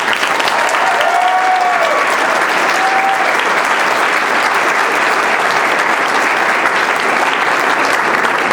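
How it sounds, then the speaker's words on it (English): Steady, loud applause fills a dinner dance hall as the crowd claps for an honoree's parents, a continuous wash of hands with a few faint voices and whistles mixed in. "give some claps for my parents"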